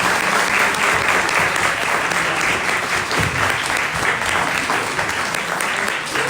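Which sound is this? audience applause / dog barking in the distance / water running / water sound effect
audience applause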